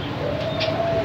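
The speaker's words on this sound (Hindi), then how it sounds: "ये डव के पट्ठे हैं" A dove coos at a busy outdoor bird market, one short soft call heard close against a steady background of market noise.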